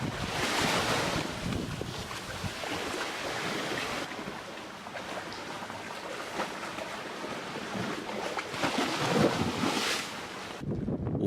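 Waves and surf rush steadily with strong wind buffeting the microphone, a motorboat's motion on rough water in the Lembe Strait carrying through the whole stretch, no talk.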